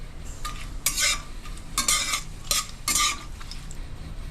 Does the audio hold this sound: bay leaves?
yes